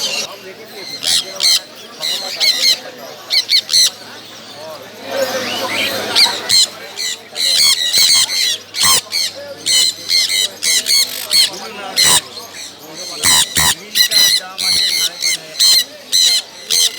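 Caged birds at a Sunday bird market on Galiff Street, Kolkata, squawk and screech in dense, overlapping bursts, loud and close, with a brief rushing wash of noise in the middle.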